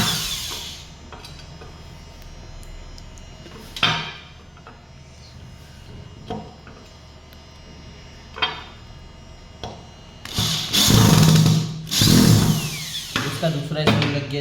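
A power screwdriver drives a screw into a double COB light fixture: quiet handling and light knocks first, then a few loud whirring bursts near the end, with someone talking nearby.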